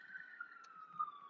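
A faint, distant siren wails in a slow falling tone, thin and steady against near silence.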